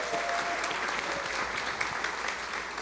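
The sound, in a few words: audience applause for the Timberwolves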